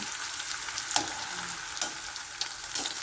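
Shrimp fry in a pan for chopsuey, a steady close sizzle broken by a few sharp scrapes and taps of a stirring utensil.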